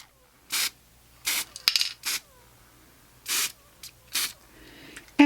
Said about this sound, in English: you want to just spritz it a couple of times. Don't do a continuous spray.